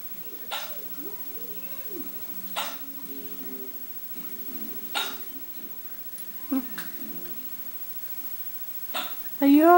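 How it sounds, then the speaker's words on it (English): Oskar the dog hiccuping in a quiet room, several short, sharp hiccups spaced a second or two apart with a louder burst near the end, while a person talks softly over them. "Poor baby has the hiccups."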